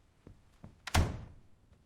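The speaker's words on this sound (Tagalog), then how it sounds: "Sarhan muna ang pinto." A door swings shut with a single solid thud after a couple of soft knocks or footsteps, as a sound effect in an animated Tagalog comedy.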